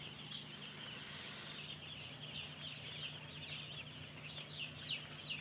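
Chickens cluck steadily at a farm while drinking plain water without medicine, a continuous chorus of nearby hen calls over a low hum with no voices.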